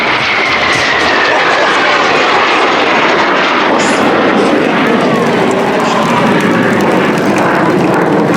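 Jet aircraft of the Patrouille de France roar continuously at an air show, a loud, steady wash of engine noise, with a commentator's voice underneath.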